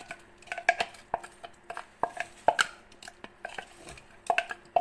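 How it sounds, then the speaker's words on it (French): Onions, along with garlic, dropped into a cooking pot, heard as scattered light thumps and metallic clinks of pieces and a utensil against the pot, close and fairly quiet. "Et voilà, je vais mettre mes oignons."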